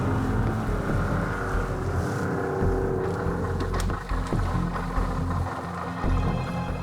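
A motorboat's outboard engine drones steadily on a river along the wild coast of French Guiana, close and loud with wind buffeting the microphone throughout.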